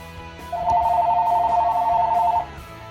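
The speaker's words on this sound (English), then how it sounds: "The phone's ringing." A telephone rings with a warbling electronic trill lasting about two seconds, loud and close over a quiet background.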